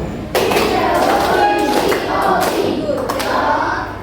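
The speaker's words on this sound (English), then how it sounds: "Good job clapping" A class of children clapping their hands together in a warm-up exercise, a burst of rapid, overlapping claps starting abruptly and continuing loudly and close for several seconds, with voices mixed in.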